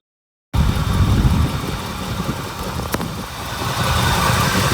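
An old 1977 GMC K25 truck engine idles steadily with a low, rumbling drone, close and fairly loud, with a faint tick partway through.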